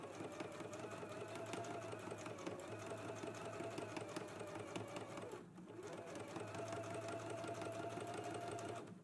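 Continuous, fairly quiet whir of a sewing machine running a row of top stitching on a McCall's M8480 garment, with a brief dip partway through before the motor picks up again.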